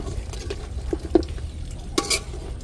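A spoon stirs chicken drumstick adobo with bay leaves in a pot, making faint, scattered scrapes and soft clinks over a quiet simmer.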